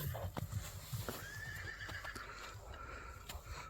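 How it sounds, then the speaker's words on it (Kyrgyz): A large horse about 1.70 m tall runs with quick, light hoof clip-clops, then gives a loud neigh midway, heard at moderate distance outdoors. "чоң аттын чуркаганын көрдүңүздөрбү? Анан туяктары дагы жеңил, курчат экен."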